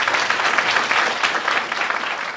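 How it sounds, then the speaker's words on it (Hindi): A church congregation at a Hindi-language sermon claps together in a dense, sustained burst of applause that stays loud and even throughout. "सब ताली बजाएंगे।"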